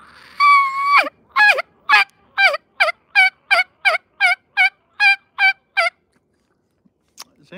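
A hand-operated turkey call mimics a wild turkey, opening with one long drawn yelp and then running into about a dozen quick, evenly spaced yelps, loud and close, before falling silent.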